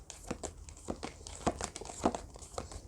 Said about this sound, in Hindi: let me just arrange the cards